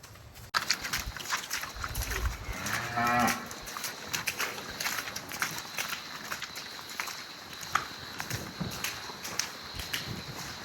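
A cow out in the snow moos loudly and close by once, a drawn-out low call, amid scattered footsteps crunching and shuffling around it.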